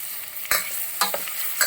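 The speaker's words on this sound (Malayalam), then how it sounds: "നന്നായിട്ടൊന്ന് ഇളക്കി കൊടുക്കും." Ripe mango being stirred in a pan for a Kerala-style moru curry made without ground coconut: three distinct spoon scrapes roughly half a second apart, each a short, close clatter over a steady frying sizzle.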